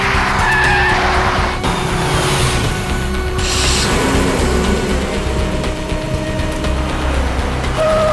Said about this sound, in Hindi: ड्राइवर, गाड़ी घुमाओ